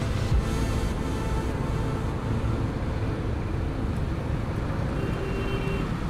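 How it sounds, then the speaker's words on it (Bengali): Dense road traffic on a main road, a continuous low rumble of many engines blending together for several seconds, steady and fairly close. "রাস্তাঘাটে এত গাড়ি কেন?"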